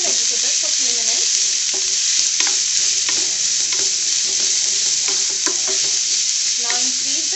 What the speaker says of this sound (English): Saute the vegetables for a few minutes.